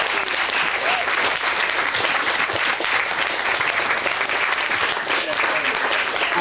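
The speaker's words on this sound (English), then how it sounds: "can we get a big round of applause for our entire debate team" An audience claps continuously for a debate team, a dense and even wash of many hands that stays loud for the whole stretch.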